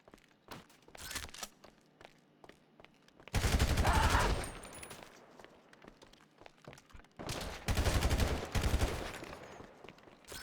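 Gunfire in the GTA video game, with scattered single shots and then two dense, loud volleys of rapid automatic fire, with quieter gaps between them.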